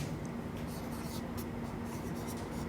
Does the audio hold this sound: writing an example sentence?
yes